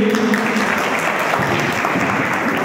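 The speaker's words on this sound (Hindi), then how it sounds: "एक बार जोरदार तालियां के लिए" An audience claps loudly and steadily throughout at a live stage program, a dense unbroken wash of applause with no voices heard.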